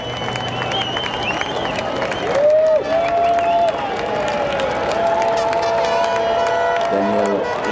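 A crowd in the grandstands cheers and applauds at the Montreal Formula 1 drivers' parade for the 2012 Canadian Grand Prix, a steady roar with whistles and shouts, while a commentator talks over it.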